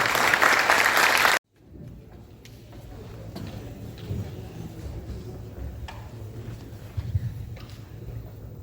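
A conference audience at the launch of a bank workers' confederation's sector-wide collective bargaining proposal applauds loudly and densely for about a second and a half. The applause cuts off abruptly, leaving quiet room noise with faint shuffles and bumps.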